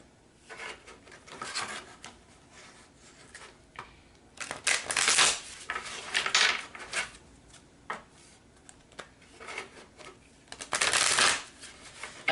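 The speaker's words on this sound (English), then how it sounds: "let's go ahead and end your reading with some oracle cards" Oracle cards are shuffled by hand at close range, with repeated riffling and rubbing bursts that swell louder in a few spots, and no talking.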